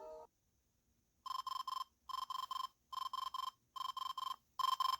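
A Nintendo DS alarm clock goes off, beeping in rapid electronic triplets that repeat in five evenly spaced bursts, loud and close, with no talking.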